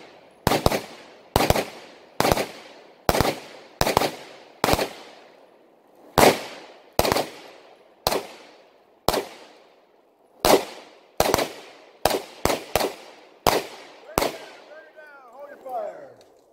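Guns fired outdoors: about fifteen sharp, loud gunshots in irregular succession, each with a short decaying echo, some paired close together, ending with faint rustling.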